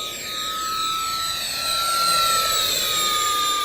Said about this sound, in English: still not the fastest jet in the world, but it does have some punch to it